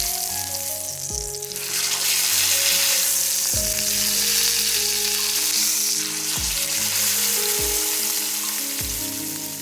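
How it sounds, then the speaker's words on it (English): Wagyu sirloin steak fat strip rendering in a hot pan, a steady loud sizzle and spatter throughout with no voices. "Hold the steak upright and render it down. That's Wagyu fat melting straight into the pan."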